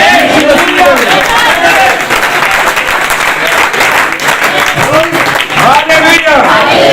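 A church congregation claps loudly and continuously, a dense wall of applause filling the space while voices shout over it.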